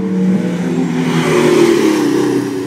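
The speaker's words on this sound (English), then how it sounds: "Next one out, the Porsche 911 of Tim Wolfe and Dean Breivik." A Porsche 911 rally car pulling away from the start of a tarmac rally, its engine note rising loud and close as it accelerates, then easing slightly at the end.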